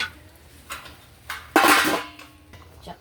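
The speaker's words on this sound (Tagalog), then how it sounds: "Saka takpan na po." Metal lid set onto a cooking pot of mung beans, a few light clinks followed by one louder clattering contact, close by with no talk.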